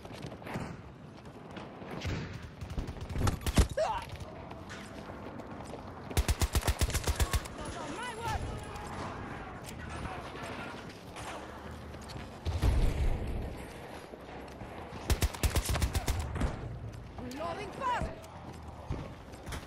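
BSVM rifle fire in the video game Battlefield 2042 comes in several sharp, rapid bursts spread across the stretch, mixed with other game noise and a voice talking between volleys.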